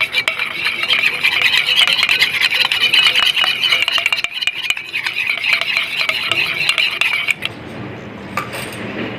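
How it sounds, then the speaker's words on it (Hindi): Egg yolk and two other home-remedy ingredients for treating dandruff are whisked together in a bowl, giving a steady, busy scraping and clinking that runs close and loud for most of the stretch before dropping away near the end. "और इन तीनों को एकदम से फेंट लेना है और मिक्स कर लेना है।"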